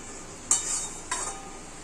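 Spoon stirring egg biryani in a pot gives two short scraping clinks about half a second apart, faint and close against a low hiss.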